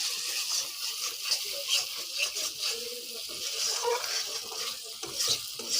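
Ginger and melon seed paste frying in oil while being stirred steadily, giving a continuous close hiss with soft scraping and occasional clinks of a utensil against the pan.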